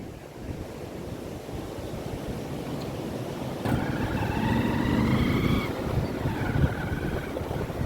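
Sea surf rushes steadily onto the shore during the monsoon season, loud and wind-blown against the microphone. A brief engine-like whine rises partway through.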